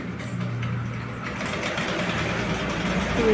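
A pedal-driven sewing machine runs continuously during a tailoring class for blouse stitching, with a steady, close mechanical whir and chatter throughout.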